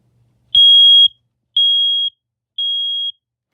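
An old smoke alarm salvaged from a camper sounds during a test: three loud, piercing electronic beeps of about half a second each, evenly spaced, close by with no other sound.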